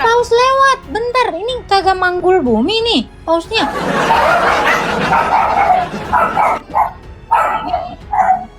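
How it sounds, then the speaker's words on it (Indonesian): A dog barks and yips in an animated comedy clip, with short repeated barks mixed under lively talking and a rushing background noise. "Ada anjing yang gonggong."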